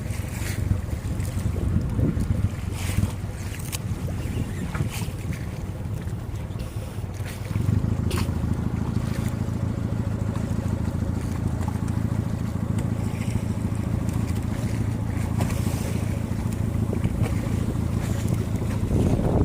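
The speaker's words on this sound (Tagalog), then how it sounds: "Uy, laki ng alon niya." Steady boat engine rumble with wind buffeting the microphone and water sloshing; around the midpoint the low rumble swells and stays louder as waves from a large passing ship's wake roll in.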